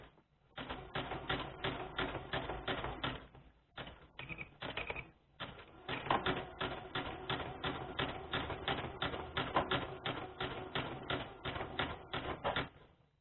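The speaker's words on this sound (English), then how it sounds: "as I pull it off of our sewing machine here" A rapid, steady mechanical clatter of a sewing machine running in bursts, with a short pause midway, close and moderately loud.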